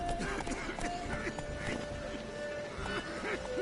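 Roach, the horse in The Witcher 3, gallops with a rhythmic patter of hooves running under a steady tonal hum and voices talking over it, moderately quiet.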